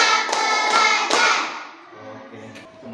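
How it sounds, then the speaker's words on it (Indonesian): Students in an Indonesian primary classroom clap their hands in a counted sequence, several sharp group claps in a row close by, then fading into quieter room sound. "Tepuk 1. Tepuk 2. Tepuk 3. Tepuk 4."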